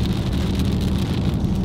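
Heavy rain pours onto a car during a storm in Oklahoma, a dense, loud, continuous drumming of drops on the body and glass with no talk.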